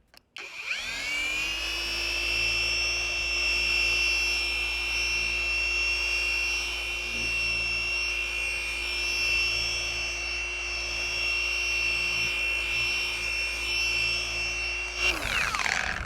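Detailing polisher on a soft black pad running steadily on low speed, applying a ceramic polish and sealant; a continuous close whine with a faint click at the start and the motor spinning down at the end.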